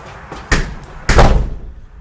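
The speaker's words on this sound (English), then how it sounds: "so if you want to close this door." Two solid thuds of a stud divider door swinging shut inside a 2020 Lakota three-horse aluminum trailer, the second knock louder and ringing briefly before quiet.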